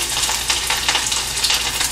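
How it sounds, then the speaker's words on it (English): Steady, close sizzling and crackling of chicken kola frying in hot oil, continuous with no voices. "I'm going to add in the oil for brief frying."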